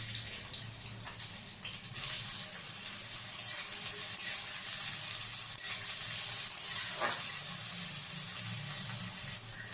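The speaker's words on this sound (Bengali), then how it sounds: "এদিকে কড়াইয়ে তেল গরম হয়ে গেছে। এবার কেটে রাখা পেঁয়াজ দিয়ে দেব।" Chopped onions fry in hot oil in a wok for a Bengali Bombay duck dish, giving a steady, close sizzling hiss throughout.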